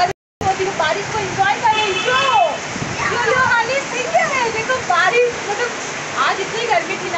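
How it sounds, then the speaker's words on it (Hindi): Heavy monsoon rain pours down hard and steadily in a village, a loud dense wash with splashing, while someone talks over it and birds call faintly in the background. "तो बिल्कुल जोरों की बारिश हो रही है"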